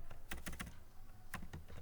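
Quiet, close keyboard typing as text is entered into a merged Excel cell: two quick clusters of keystrokes separated by a short pause, with no voice over them.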